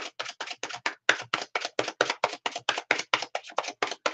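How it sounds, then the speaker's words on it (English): Tarot cards shuffled at close range in a steady run of about twenty crisp riffling flicks, evenly spaced and fairly loud, with no voices. "Cards are shuffled."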